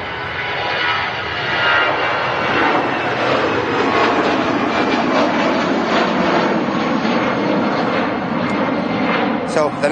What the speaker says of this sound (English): It's just been non-stop planes for the last sort of hour